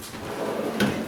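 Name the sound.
drawer opening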